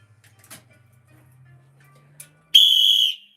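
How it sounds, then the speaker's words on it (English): A single sharp whistle blast rings out loud and clear for about a second near the end, preceded by a few faint clicks and a low hum. "Yes, baby, I've still got the whistle."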